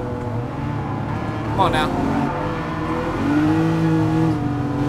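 Ferrari and Lamborghini V12 engines in GT Sport, a steady high engine drone that rises in pitch toward the end, with someone speaking briefly over it.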